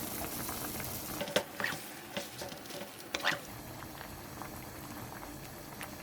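Water in a cooking pot coming up to a boil for radish tteokbokki, a soft steady bubbling with a few clinks and stirring knocks scattered through it.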